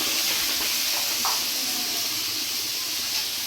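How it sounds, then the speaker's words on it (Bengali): Tomatoes and peas sautéing with shredded cabbage in a pan for a simple home-style Bengali cabbage curry, a steady close hiss and sizzle running throughout without pause. "টমেটো মটরশুঁটি দিয়ে আমি ভালো করে কষিয়ে নেব"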